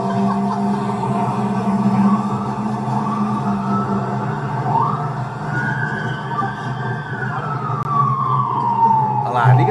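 A siren wails with rising and falling pitch, fairly loud, over steady engine rumble and road noise.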